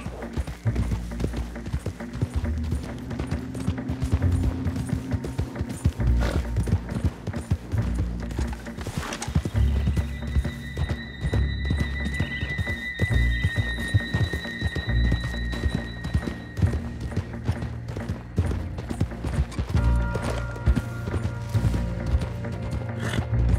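A horse trots and gallops in Red Dead Redemption 2, giving steady clip-clop hoofbeats over a dense, loud game soundscape with a few sustained tones in the background.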